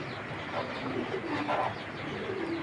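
Racing pigeon coos softly nearby, a few low, rolling coos in quick succession against faint background noise.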